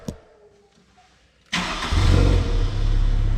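An OZ Cygnus car engine cranks and catches after a quiet lead-in, then settles into a loud, close, steady running roar with a slight dip and recovery.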